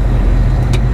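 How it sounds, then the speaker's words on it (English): Vehicle traffic at a truck stop in Hazleton, Pennsylvania, a brief dense low engine rumble from nearby cars and trucks with a short hiss near the end. "We are here at the Hazleton truck stop"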